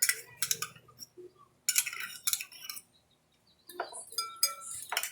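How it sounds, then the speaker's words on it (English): Spoon and fork mixing Caesar dressing of anchovies, garlic, Worcestershire sauce and Dijon mustard in a crystal bowl at Flora Farms, Los Cabos. Bright metal-on-glass clinks come in quick clustered bursts, with a short pause midway. "So today I'm working with the spoon and the fork"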